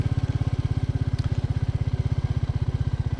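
A Royal Enfield Meteor 350 motorcycle on a bumpy off-road trail, its single-cylinder engine thumping in a loud, fast, steady pulse that stays close throughout.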